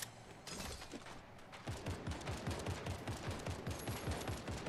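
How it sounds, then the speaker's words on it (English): Rapid automatic gunfire in Fortnite fires as a fast, evenly spaced burst of repeated shots that continues steadily at moderate loudness, with no one speaking. "They're shooting right here"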